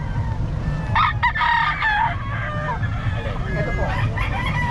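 A sweater gamefowl rooster crows in a bustling gamefowl market, its call rising over steady crowd noise and nearby chatter, with a second crow following a few seconds later.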